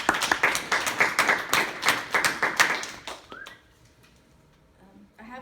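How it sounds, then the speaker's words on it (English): A small audience applauds after a student's informative speech, a moderate patter of claps from a modest group that lasts about three seconds before fading into quiet room noise. "a big round of applause."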